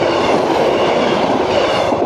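A train rolls past a level crossing on a rural cross-country line, a loud, steady close rumble with rhythmic clickety-clack of wheels over rail joints throughout, no voices.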